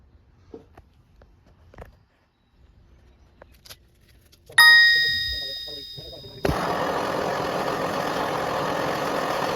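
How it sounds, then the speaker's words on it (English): A rotary filing and cutting bit notches a metal subframe piece around its welds. Quiet handling noises lead to a sharp metallic clang, then a loud, steady grinding whir takes over for the final few seconds. "And just use it to notch this piece around some of the welds"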